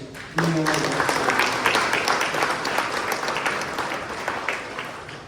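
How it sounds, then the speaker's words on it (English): Audience applause fills a tourism awards ceremony in Guyana, a dense, steady wash of many hands clapping that swells up at once and holds, slowly easing over several seconds, with faint voices mixed in. "I believe they deserve a round of applause."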